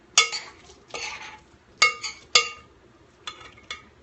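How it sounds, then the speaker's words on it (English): A spoon scooping oaty biscuit bar mixture and tapping onto a large cookie sheet, making a few sharp metallic clinks and scrapes in loose irregular pairs, close and fairly quiet with pauses between. "I'm just taking a spoonful. I'm putting it on my cookie sheet."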